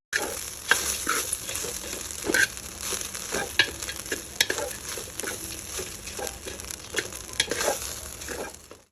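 Cooked rice is stirred into coconut rice in a pan, a soft sizzle under repeated scraping and clinking strokes of a spoon, with no voices.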